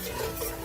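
Flour being stirred constantly in a pan for a mac and cheese roux, a soft close scraping swish lasting under a second, quiet and without voices.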